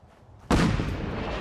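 A single heavy cannon blast in Fallout 4 erupts abruptly after a brief quiet lead-in, loud and close, followed by a sustained rumbling decay.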